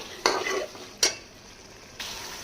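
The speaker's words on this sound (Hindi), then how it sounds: "चिकन शामिल करेंगे जो हमने फ्राई करके रखा हुआ है। तो इन सारी चीज़ों को अच्छे से करेंगे मिक्स" Fried chicken is stirred together with chicken karahi ingredients in a pan, with three distinct scraping strokes of a utensil about a second apart over a faint background sizzle, close and without voices.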